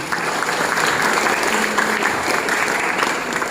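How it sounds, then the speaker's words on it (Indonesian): Lecture-hall audience at an Isra' Mi'raj religious talk breaks into sustained, dense applause, a steady wash of many hands clapping together for several seconds with faint crowd murmur beneath. "tepuk tangan semuanya"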